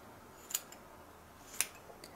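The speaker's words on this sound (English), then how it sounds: "You want to lift up the batting and just trim it away in nice long cuts so it's not real jagged." Curved scissors trim quilt batting during an in-the-hoop quilted stocking project, giving two crisp, close snips about a second apart, with a fainter snip after each, against a quiet room.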